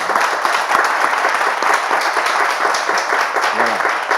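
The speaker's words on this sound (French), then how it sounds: "On peut applaudir quand même?" An indoor audience claps steadily and fairly loudly throughout, a continuous wash of many hands with a brief voice near the end.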